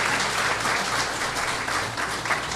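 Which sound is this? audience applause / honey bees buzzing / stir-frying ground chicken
audience applause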